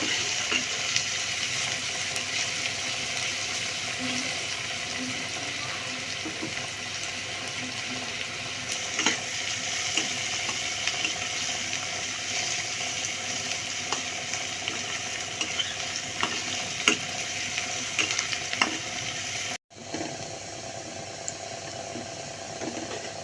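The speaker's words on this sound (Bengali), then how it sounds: "পেঁয়াজটাকে একটু গোল্ডেন ব্রাউন করে ভেজে নিচ্ছি।" Chopped onions frying in oil until golden brown give a continuous close sizzle with faint stirring scrapes, then the sound drops off sharply and resumes more quietly near the end.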